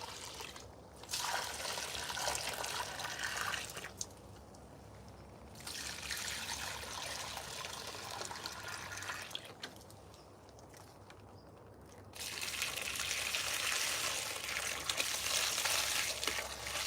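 Rainwater is poured to soak the roots of newly planted cherry trees, a steady close splashing trickle that runs in long stretches broken by short pauses.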